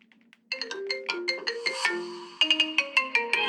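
A phone ringtone plays a bright, rhythmic melody of quick repeated notes, loud and close, starting after a brief faint chirp and continuing to the end.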